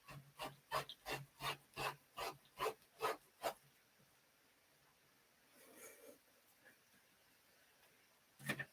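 Hand blade rasping back and forth across a wooden edge in a shop, about ten quick rhythmic strokes close by, then a pause with faint scraping and one last stroke.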